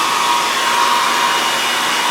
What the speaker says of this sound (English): I get a hair dryer